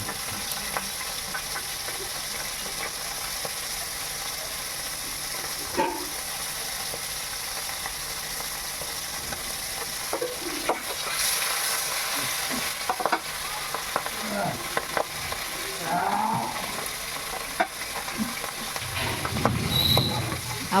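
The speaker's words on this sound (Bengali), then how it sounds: "ঝোল ফুটছে।" Fish curry gravy made with parshe fish simmers in a pan while a spoon stirs it, a steady bubbling hiss with scraping clinks and occasional louder stirring bursts, close and continuous with no talk.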